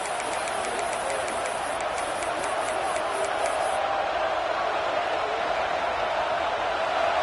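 A stadium crowd at a Miami vs Texas A&M college football game roars steadily for its defense, a broad, sustained wash of cheering and noise from a large crowd throughout.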